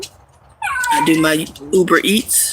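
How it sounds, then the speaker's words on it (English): A pet dog whimpers and whines in high, drawn-out wavering cries, close and fairly loud, while someone talks over it. "That's my dog. Don't mind her."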